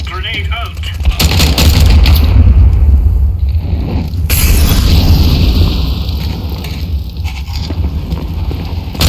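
In Counter Strike 2, a grenade blast booms loudly near the start, and dense gunfire and rumbling battle noise follow. A voice speaks briefly over the din.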